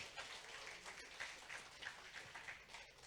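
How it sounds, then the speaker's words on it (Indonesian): Faint audience applause at a Bank Syariah Indonesia young-entrepreneur event, a steady patter of many hands held at an even level for a few seconds with no talk over it. "Tepuk tangan dong."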